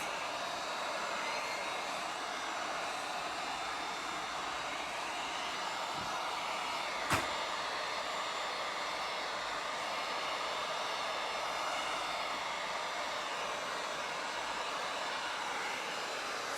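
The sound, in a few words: heat gun blowing over resin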